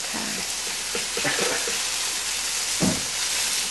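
Sole fillets frying in a pan of butter and olive oil, a close, steady sizzle with a few louder spatters and scraping touches as the fish is moved, no talk.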